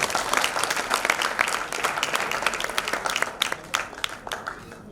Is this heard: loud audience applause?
yes